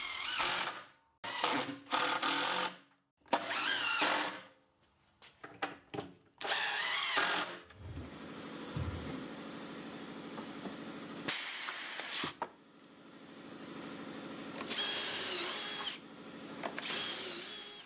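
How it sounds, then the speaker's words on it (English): A homemade pneumatic pocket hole drilling station runs in short bursts of whirring and hissing air, separated by pauses, close and fairly loud, with a longer hiss of air near the end. "I'm using our homemade pneumatic pocket hole drilling station"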